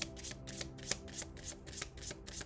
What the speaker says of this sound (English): So let's get to the shuffling.